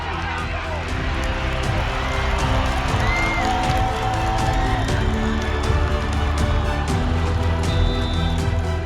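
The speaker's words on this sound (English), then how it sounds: "the crowd roared" Crowd at a high school varsity football game roaring and cheering, a loud, sustained wash of many voices with whistles and shouts, steady throughout.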